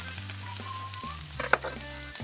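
Steak sizzles in a griddle pan in a Florence kitchen, a continuous close hiss with a sharp pop or crackle midway, heard alone without talk.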